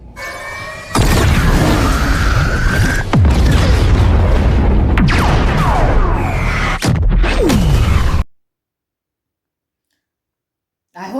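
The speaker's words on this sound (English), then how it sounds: "The gun is charged and ready to fire." A big gun firing in the Rebel Moon Part Two film: loud, dense booming blasts and explosions with sharp clicks and sweeping whooshes, sustained for about eight seconds and then falling abruptly to silence.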